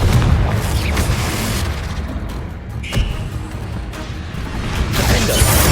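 Confringo explosion spell cast in Hogwarts Legacy gameplay, dense rumbling blasts and bursts over continuous loud game action, with a sharp crack near the middle.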